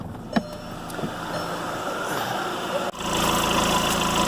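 A 2015 VW Jetta engine idles steadily with a low, continuous hum, close and even, stepping up slightly louder near the end.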